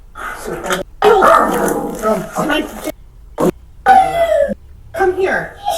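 Small dog barking in short, sharp yappy bursts near a house door, mixed with whining, while people talk over and between the barks.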